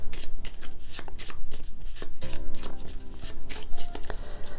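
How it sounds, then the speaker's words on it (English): Deck of cards for the Medium mind-reading party game being riffle-shuffled by hand, close and crisp, with repeated rapid flutters of cards and a bridge-like cascade partway through. "I shuffle them once more just for fun."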